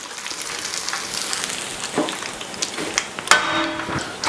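Oil sizzles and crackles steadily as red snapper deep-fries, with a sharper burst of bubbling partway through; no voices.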